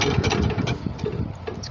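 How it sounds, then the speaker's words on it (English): The engine of a 1963 Cub Cadet 70 garden tractor, cold and in need of choke, cranks and sputters into an uneven, lumpy idle, close by, with no talking. "So these, they start up like an actual tractor."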